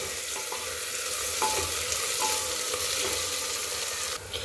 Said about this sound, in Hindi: चलाते हुए आप इसे इस तरीके से गोल्डन ब्राउन होने तक इसे भून लें